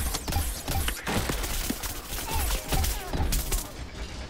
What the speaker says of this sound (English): I was just shot to death.